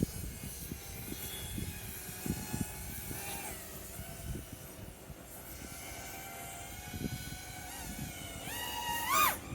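A Stace Invader FPV drone flies with a high whining motor hum that rises and falls with throttle, heard at a moderate distance under a steady outdoor background rumble.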